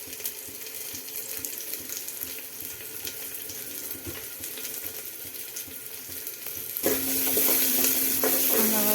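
Mustard seeds, onion and curry leaves fry in hot oil in a home kitchen, giving a steady close sizzle and crackle that grows louder and brighter near the end, with light stirring and no talk.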